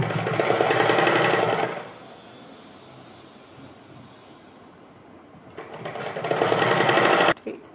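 A sewing machine stitches fabric for a small Kanha ji dress in two loud, rapid bursts, the first lasting about two seconds and the second about two seconds near the end, with quieter handling between.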